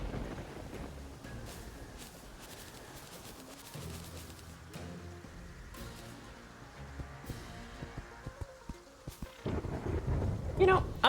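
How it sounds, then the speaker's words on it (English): Rain and rumbling thunder in the Terraria video game, a steady wash of rainfall with low booming rolls that build louder toward the end. "It's raining."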